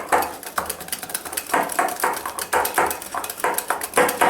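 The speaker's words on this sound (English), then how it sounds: "Whisk it well till the whole thing incorporates." A whisk beating a thick eggless whole wheat cookie batter in a bowl, giving quick rhythmic clinking and scraping strokes, close and fairly loud, with no speech.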